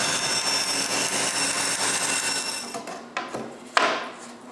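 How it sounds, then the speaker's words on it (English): A woodworking bandsaw cuts a wooden serving tray shape, a loud steady whirring buzz that winds down into a couple of knocks and clatters at the end. "Then I cut it better with the bandsaw."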